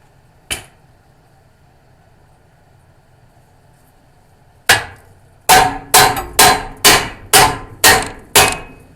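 Hammer blows ring out: one isolated strike, a pause, then a steady run of about eight sharp, loud metallic hits close by.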